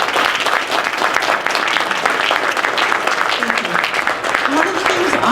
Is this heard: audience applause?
yes